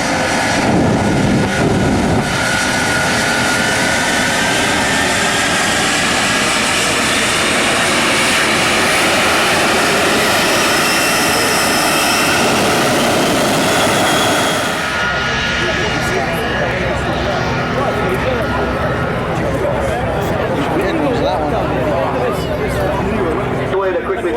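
Military aircraft performing repeated aerobatic rolls at an air show at Quonset Air National Guard Base, engine roar loud and sustained for about fifteen seconds before easing into a quieter, more distant drone with crowd noise.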